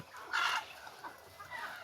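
Free-range desi chickens on a farm cluck before a rice feeding, with a brief louder burst of clucking near the start, then quieter scattered fowl calls against a soft outdoor background.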